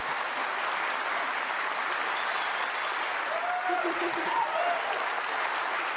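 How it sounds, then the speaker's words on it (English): Steady applause from a crowd, continuous clapping filling the whole stretch at an even level. "Give a round of applause."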